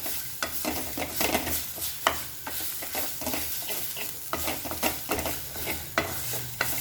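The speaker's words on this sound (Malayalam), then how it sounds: "ഇനി ഇത് നന്നായിട്ടൊന്ന് ബ്രൗൺ കളറാകുന്നവരെ നമുക്ക് വറുത്തെടുക്കണം." Grated coconut from half a small coconut being roasted and stirred in a pan until brown, giving a steady close sizzle with repeated scraping strokes of a spoon, no voices.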